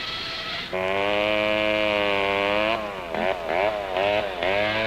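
A loud gasoline-engine buzz saw cutting firewood drones in a sustained whine, its pitch dipping and rising several times as it bogs and recovers.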